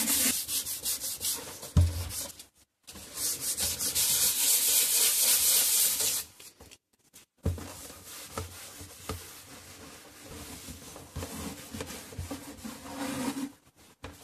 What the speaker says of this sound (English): with some fine sandpaper, 220 grit, the surface has been scratched, but without removing completely the original lacquer